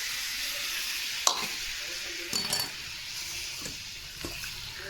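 Chicken coated in gram flour, Kashmiri chili powder and a little sugar sizzles in hot oil in a pan, a steady close hiss broken by a few clinks and stirring scrapes.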